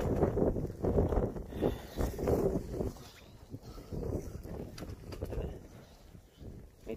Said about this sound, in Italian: Incominciando a piovere e butta vento.